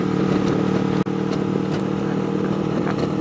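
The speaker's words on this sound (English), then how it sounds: "And the rumble of the Tolkevix exhaust is fantastic." A steady, deep motorcycle exhaust rumble at about 100 km/h on a highway, continuous and fairly loud, with a brief dropout partway through.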